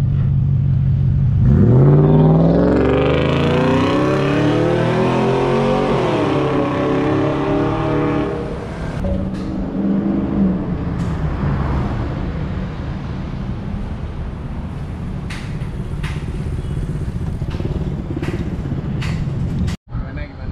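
Car fitted with a Techpro valvetronic exhaust passes by, engine rising loudly to a revving peak near the start, then settling into a sustained drone as it moves away, with people talking faintly in the background.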